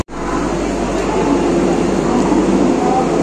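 Vande Bharat Express, the Howrah–Puri 22895, pulling into Bhubaneswar station, heard from inside the coach as a steady, loud, unbroken rumble with an air-conditioning-like hiss and no clear speech.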